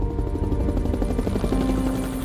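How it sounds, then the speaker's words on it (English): A helicopter flies close overhead in the Andes mountains, its steady, loud rotor thumping and engine drone filling the air without pause. "The sound of the helicopters."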